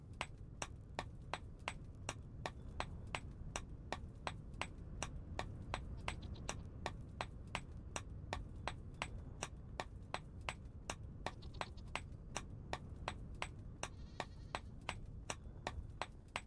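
Chisel struck by a hammer in the modded survival game Vintage Story, a steady fast series of sharp metallic taps continuing throughout over a soft low ambient background.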